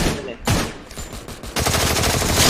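Rapid gunfire bursts in a shooting video game, loud and dense, with automatic fire crackling in clusters and brief gaps between volleys.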